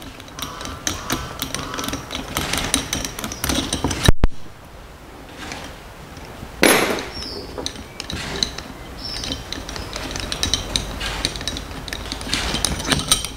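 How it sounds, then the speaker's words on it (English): Bolts being loosened from a car starter motor and its solenoid switch, with rapid ratcheting clicks from a wrench, a sharp metallic clack, then quieter scraping and further bursts of ratcheting, close up. "Now I can remove the bolts."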